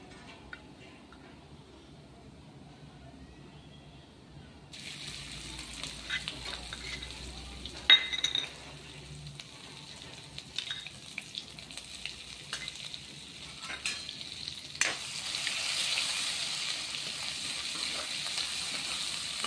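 Mustard seeds crackle in hot oil, then a garlic-cumin paste goes into the pan, with sharp pops and handling clatter followed by a soft, continuous frying sizzle that grows slightly louder toward the end.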